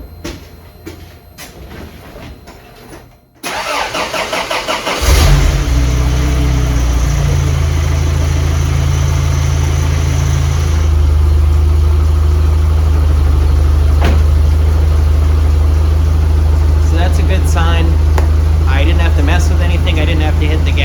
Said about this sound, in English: So let's start it up, let's see if it even starts, and let it idle.